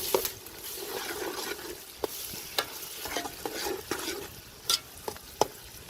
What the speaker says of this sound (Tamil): நல்ல வடிவாக கரண்டியால கிளறி விட வேண்டும்